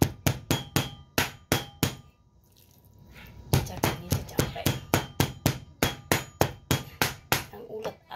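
A sharp knife chops raw pork on a cutting board in quick, steady, close thuds, pausing briefly after a couple of seconds before the rapid chopping resumes.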